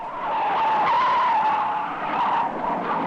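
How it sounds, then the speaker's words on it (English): Big black car barreling down a street in a 1974 animated cartoon, a sustained, loud tire skid screeching steadily for about three seconds with no voices. "look at the big car barreling down the street."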